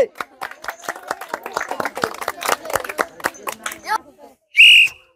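A village crowd at a ball-tossing challenge claps for a contestant in a burst of quick, uneven claps that fades after about four seconds, followed by a loud whistle.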